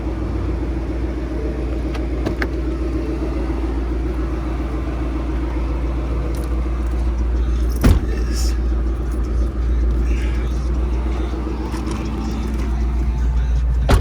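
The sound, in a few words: Mustang GT engine with Paxton supercharger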